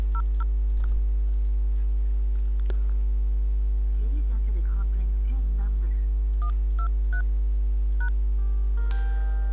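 Telephone keypad tones from a PIN being entered on an AsteriskNOW phone conference: several short, evenly spaced beeps in small clusters over a steady electrical hum, with no talking.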